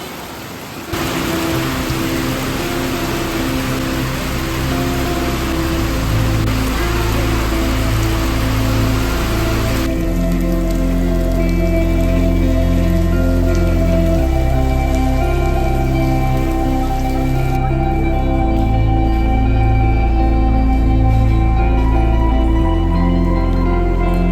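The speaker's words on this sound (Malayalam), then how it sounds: "ഒരു രക്ഷയില്ലാത്ത മഴ ആയിപ്പോ കേട്ടോ" Heavy rain pours steadily and loudly throughout at Kollur Mookambika Temple, overlaid with a sustained droning tone that shifts pitch every few seconds, with no talking.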